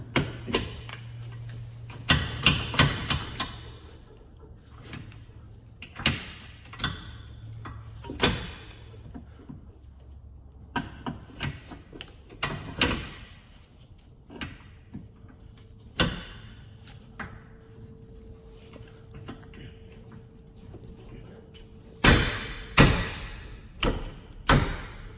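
Fitting a ball joint into the spindle of a 2005–2010 Chevrolet Cobalt or Pontiac G5 during lower control arm replacement, a series of scattered metallic clacks, knocks and thuds spread over the clip, with quieter gaps between and a burst of knocks near the end.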